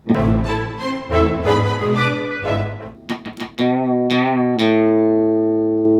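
Twangy, bright guitar hybrid picking near the bridge with a snappy Bakersfield country feel, notes plucked close and clear, ending on a ringing sustained chord.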